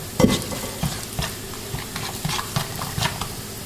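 Onions sizzle in a pan with garlic and thyme for a beef curry. Close, continuous frying crackle comes with repeated stirring scrapes and light knocks.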